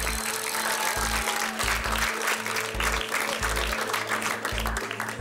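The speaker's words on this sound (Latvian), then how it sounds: "Un tā aplausi." An audience applauds as time runs out on a team task at a science competition final, dense clapping sustained throughout over a pulsing low mechanical drone.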